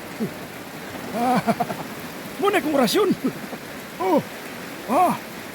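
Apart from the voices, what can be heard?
rain falling on banana leaves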